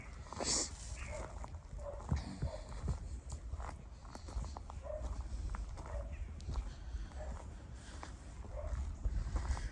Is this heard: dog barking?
yes